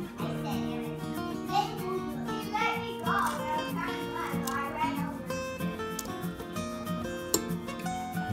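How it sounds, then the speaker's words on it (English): Children's voices shout and chatter continuously in the background, mixed with other indistinct household noise throughout. "I'm sure y'all can hear the kids hollering in the background."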